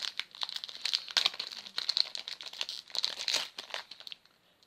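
A Yu-Gi-Oh! booster pack wrapper is crinkled and torn open up close, a continuous run of sharp crackling plastic rustles that stops abruptly at the end.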